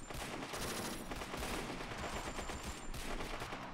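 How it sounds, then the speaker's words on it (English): Panzer Strike anti-tank weapons firing in the war game MoWAS 2: a dense, continuous barrage of sharp gunfire and blasts packed tightly together, loud and unbroken for a few seconds. "he's still firing his dumb Panzer Strike at me"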